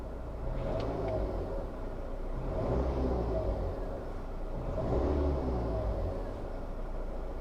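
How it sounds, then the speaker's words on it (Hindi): Mahindra Thar 2020 turbocharged engine heard from inside while driving: a steady mid-pitched engine drone with gentle swells in revs and a faint turbo whine riding on top, no talking. "Can you hear the whine, the turbo whine?"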